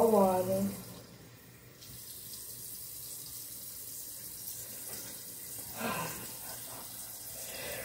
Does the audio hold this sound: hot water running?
yes